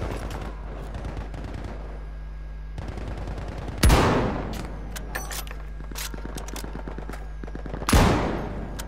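Boys anti-tank rifle shots in a video game: two heavy, booming single shots several seconds apart over a steady low engine-like hum, with clicking mechanical handling sounds between them.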